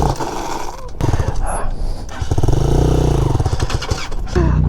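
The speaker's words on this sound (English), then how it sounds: "A Chinese bike. It's called a Hawk 250." A Chinese Hawk 250 motorcycle engine rumbles and revs nearby with a throaty, uneven tone that swells and falls. Talk and other noise overlap it at times.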